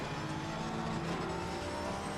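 Race car engine droning steadily in a PC racing game, with another car running alongside on the left; a continuous, fairly loud broadband roar with no talking.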